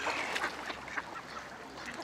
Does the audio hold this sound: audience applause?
no